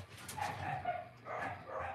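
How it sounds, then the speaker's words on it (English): Several dogs bark excitedly at a distance, a rough cluster of yaps and woofs rising and falling over two seconds, faint and slightly muffled in an outdoor setting. "there's the dogs going crazy"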